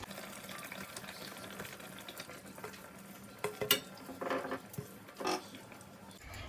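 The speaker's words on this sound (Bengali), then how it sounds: "এবার আমি এই যে বেগুনগুলো দিয়ে দিচ্ছি সব এক এক করে।" Stuffed eggplants are set one by one into bubbling gravy in a pan, giving soft plops, utensil clinks and scrapes against the pot over a steady low simmer.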